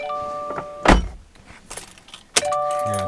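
A car key turns in the ignition of a 2018 Subaru WRX STI, with keys jangling, a couple of sharp clicks and thunks, and steady electronic chime tones sounding before and after, close and clear.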